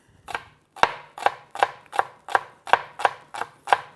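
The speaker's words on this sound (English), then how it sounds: "We just chop the chili finely. And the spring onion as well." A knife chops chili and spring onion on a board for Vietnamese pho, about ten crisp, evenly spaced strikes close up, with no other sound between them.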